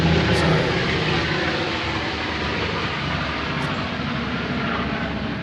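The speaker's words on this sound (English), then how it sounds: "a freaking airplane flies over me" An airplane flies overhead on the outskirts of town, a loud, steady broadband engine roar that fills the whole clip and slowly eases off, heard from outdoors.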